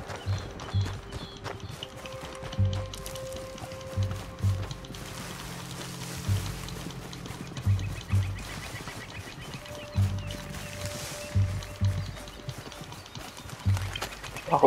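A horse runs in the Red Dead Redemption 2 video game, its hooves pounding in a quick, rolling rhythm of close, heavy thuds over a faint outdoor ambience with occasional bird calls.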